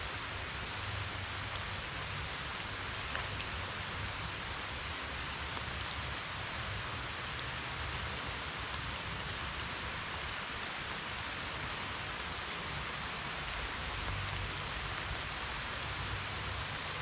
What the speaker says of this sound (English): It's raining, it's nasty out.